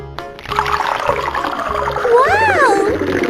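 Water runs from a toy water tank on a play truck set, a steady close splashing trickle mixed with whirring toy sounds and a brief rising electronic tone, with no talking.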